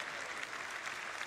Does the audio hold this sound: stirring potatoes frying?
no